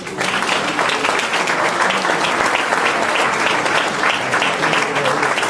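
At a law forum in Veracruz, an audience gives loud, sustained applause that lasts the whole stretch with dense, even clapping.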